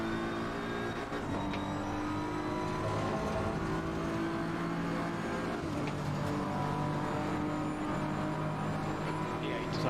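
A race car engine in Assetto Corsa Competizione, droning steadily and loud from the cockpit with harmonic revving that rises and falls through gear changes, while someone talks over it.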